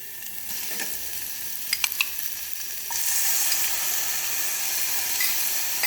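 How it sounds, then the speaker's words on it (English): Chopped tomatoes go into a hot pot for pesto minestrone soup: steady frying hiss with a few light clicks, then the sizzle swells louder and stays even, no voices. "Now we'll add chopped tomatoes to it."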